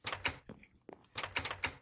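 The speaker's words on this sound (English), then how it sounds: "Oops. Closed the wrong door." In Minecraft a door is shut with a few quick, faint wooden clacks and knocks, short and close, with brief gaps between the hits and nothing else heard.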